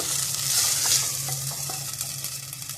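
Flour is stirred into sarson ka saag in a hot pan, a loud close sizzle with a low steady hum underneath and soft scraping strokes, continuous and without talk.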